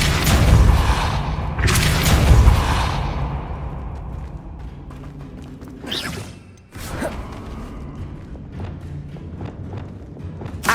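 A Bombarda blasting spell sets off heavy booming explosions at first, then a rumbling tail, followed by sharp whooshing bursts and creaks.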